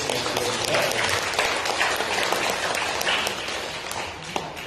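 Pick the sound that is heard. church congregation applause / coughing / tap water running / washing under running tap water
church congregation applause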